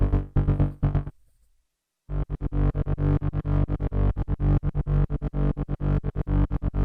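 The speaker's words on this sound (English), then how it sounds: "Instant trance gates." Trance gate effect from an Avalon Harmonics iVCA stereo VCA chopping a distorted synth into a fast, rhythmic stream of loud pulses, pausing briefly before the steady gated pattern resumes.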